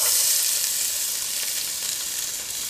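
Onions hitting a hot pan, a dense, bright sizzle that starts loud and eases off slightly over a few seconds, alone without speech.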